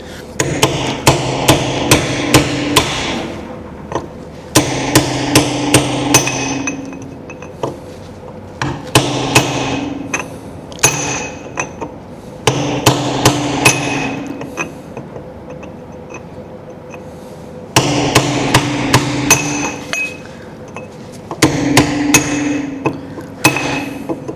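A hammer strikes a tool on a locking wheel nut of a Mini 1275 GT in rapid rhythmic bursts of sharp metallic blows, repeated in several rounds separated by short pauses, close and loud.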